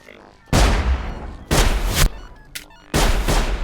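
Rifle gunfire in the video game Sir, You Are Being Hunted, three loud sharp shots spaced about a second apart, each with a short booming tail, and a faint brief sound between them.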